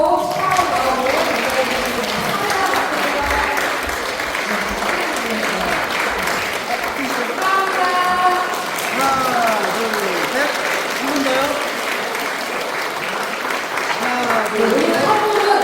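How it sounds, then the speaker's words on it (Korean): A congregation at a Won Buddhist induction ceremony applauds loudly and steadily, with voices talking over the clapping throughout. "자, 웃을 수 있도록 큰 박수로 축하하고"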